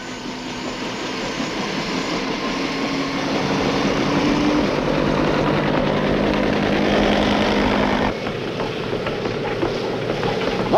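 Army helicopters operating aboard a Navy amphibious ship off Vietnam, a loud, sustained rotor and engine roar with a rough, steady beat that shifts slightly near the end.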